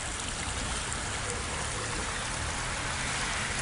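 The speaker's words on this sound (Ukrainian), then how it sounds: "Оце через цей струмочок затоплено" A small stream flows across a flooded street at a city intersection, a steady close rush of running water with an even trickling hiss and no pauses.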